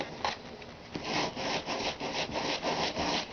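A whisk scrapes and cuts margarine into flour for a pie crust in a bowl, a run of close, rhythmic rubbing strokes that gets busier and denser after the first second, with no talking.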